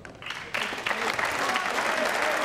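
Audience applause bursts out around half a second in at a professional pool match between snooker legends, a dense, steady clapping that fills the hall and holds loud to the end.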